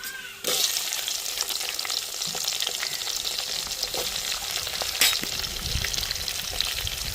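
Curry masala, cinnamon and chopped onions fry in hot oil for mutton kuzhambu, giving a steady loud sizzle and crackle. A sharp clatter sounds as the ingredients drop into the pan, and another stirring knock comes midway.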